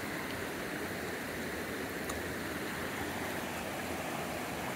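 Creek water flowing across a hiking trail near Mount Sizer in Henry Coe State Park, a steady broadband rush that stays even and fairly close throughout, with no voices or other sounds.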